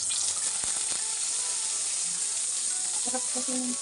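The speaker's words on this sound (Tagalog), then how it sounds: "Prito din tayo ng tuyo." Dried salted fish frying in a pan sends up a steady, bright sizzle that holds across the whole stretch, with a few faint clinks and scrapes near the end.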